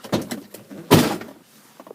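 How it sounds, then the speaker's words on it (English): A Ford Super Duty pickup door opens with a soft click, then shuts with a solid, close thunk about a second later. "Open the door, close the door"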